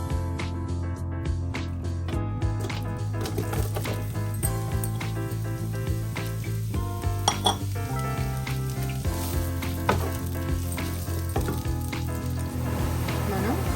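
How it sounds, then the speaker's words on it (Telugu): Sliced onions frying in hot oil for jackfruit biryani, with a continuous sizzle and crackle under a layer of music, no voices. "ఆనియన్స్ని ఇలాగా ఫ్రై చేసుకుని బ్రౌన్ ఆనియన్స్ కింద చేసుకోవాల్సి ఉంటుంది"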